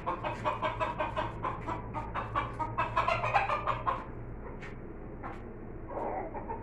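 Farmyard hens cluck busily while being fed, a dense run of short overlapping clucks close by that thins out toward the end, with no talking.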